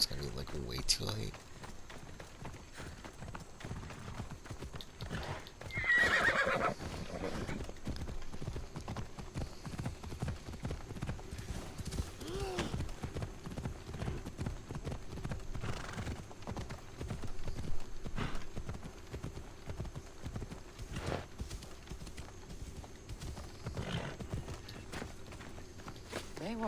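Horse hooves clip-clop at a steady running pace through a long stretch in Assassin's Creed, with a brief neigh near the start and game ambience beneath, loud and continuous.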